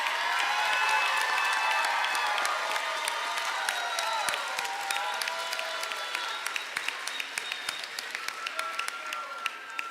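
A nursing graduation audience applauding, dense sustained clapping from a large crowd in a hall, with scattered cheers and whoops, gradually thinning to sharper individual claps.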